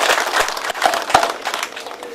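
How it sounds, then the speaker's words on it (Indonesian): Applause from an audience honouring a woodcarver, a brief burst of dense clapping at moderate volume with a few sharper claps standing out. "tepuk tangan dulu untuk pengukir yang luar biasa"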